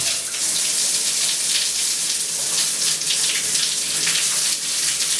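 A steady hiss of shower water spraying continuously, close and fairly loud, with no voices over it.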